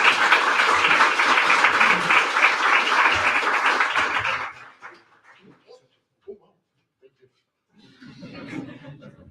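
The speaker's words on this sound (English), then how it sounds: "So give it a applause" An audience applauds after a talk at a Data & Drinks MLOps meetup, a dense burst of clapping for about four seconds that cuts off abruptly, followed by scattered small sounds and quiet murmuring.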